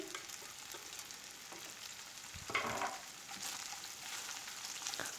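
Green peppers sizzle gently in a pan, a steady soft crackle with a brief louder burst of spattering partway through, quiet and without talk.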